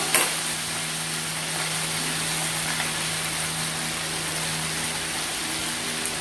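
Potato and stems frying in a pan, an even, steady sizzle with a low background hum throughout and only faint stirring movement.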